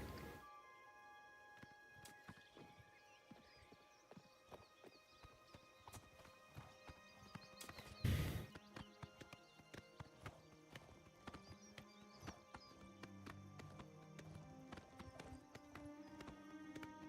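Steady clip-clop of horse hooves in a regular trotting rhythm in the game Oblivion, with a brief whinny and a sharp thump partway through, over faint game ambience.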